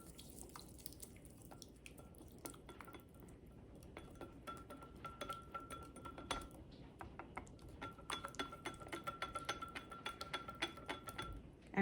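Mustard, lemon juice and salt dressing being mixed in a bowl, quiet rapid clinking and tapping of a utensil against the bowl that grows busier toward the end.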